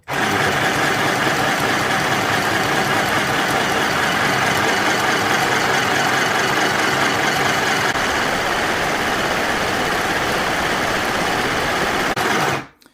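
A mini sewing machine runs steadily while winding a bobbin, its loud continuous motor whir holding an even pitch for about twelve seconds before cutting off.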